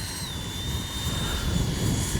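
A steady, thin jet whine holds a high pitch over gusty wind rumble: a Freewing 80mm F-22 RC model jet flying continuously at a distance.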